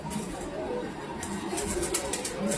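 Pigeons cooing in a loft, soft repeated coos set against a steady hiss of background noise, with no clear talk over them.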